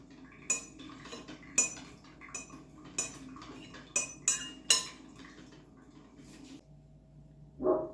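A spoon clinks against a bowl while removing bits of eggshell from eggs for tiramisu, making a series of sharp, close metallic taps at irregular intervals, with quieter shuffling between them.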